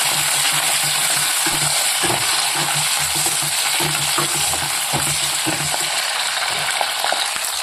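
Green chilli pieces fry in a pan for a homemade ginger chutney, a steady close sizzle broken by repeated scraping stirs of a spoon against the metal over roughly eight seconds.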